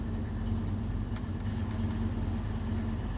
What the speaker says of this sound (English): You can hear the motor run.